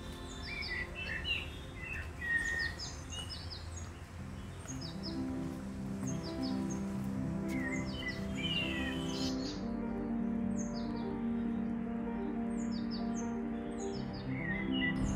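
Small birds chirp and tweet repeatedly at an urban pond in Delhi, faint overlapping calls over a low steady background hum.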